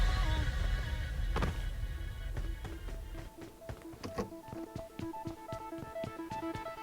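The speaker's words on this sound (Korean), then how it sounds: "여기 어디 기는 소리 나요 기는 소리" Crawling in the PUBG Mobile video game makes a faint, rhythmic run of soft clicks and scuffs that grows more regular after a murky, rumbling start.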